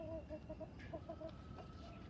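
Chickens on a large farm give a quiet run of short repeated clucks at a steady pace, faint and somewhat distant over a low background hum.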